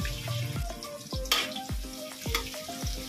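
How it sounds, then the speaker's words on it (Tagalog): Minced garlic fries in hot spring oil in a kawali, a continuous bright sizzle with soft stirring under plucked background music. "At kapag mainit na, maglalagay tayo ng minced garlic."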